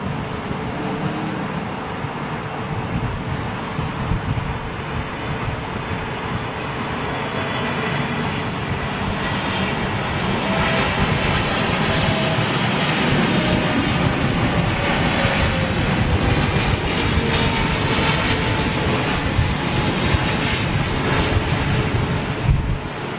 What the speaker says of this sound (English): Thai Airways 777.